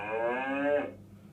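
A black and white toy cow gives one steady, drawn-out electronic moo that lasts under a second and then cuts off, close and clear with no voice over it.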